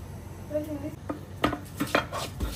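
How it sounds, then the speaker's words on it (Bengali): Hilsa fish is ground on a stone slab for a mashed bhorta, giving a few short, uneven scrapes and knocks of stone against stone, with a brief voice heard faintly near the start. "আমি ইলিশ মাছটা এখন পিষে নিচ্ছি"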